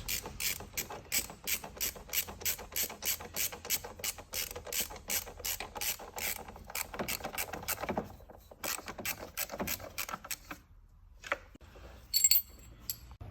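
A ratchet wrench on a Volvo S90 engine mount clicks in rapid repeated bursts as bolts are loosened. The near, sharp ratcheting comes in strokes and is followed by a few metallic clinks near the end. No one speaks.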